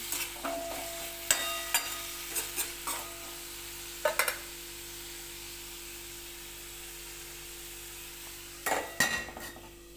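Spices and drumsticks roasting in oil, stirred with a utensil: a faint steady background hiss broken by a few sharp scraping clinks early on and a cluster near the end, with no talk.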